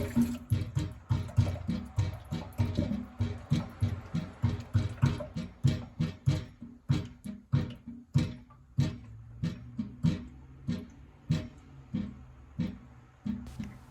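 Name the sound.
water siphoned down unvented S-trap drain pipe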